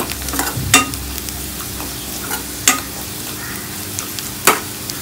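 Spices and Kashmiri red chili fry in a pan as a steady close sizzle, broken by a few sharp scraping strokes of a spoon that come about every two seconds, with no talk.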